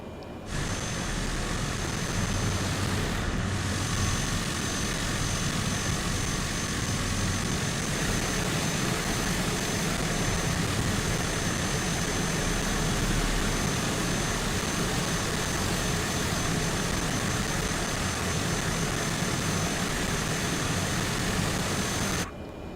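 Airliner jet engines in Microsoft Flight Simulator during pushback, a loud continuous roar and whine that holds steady throughout.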